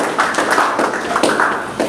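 An audience applauding at a university conference debate: dense, sustained clapping from many hands, loud and close throughout.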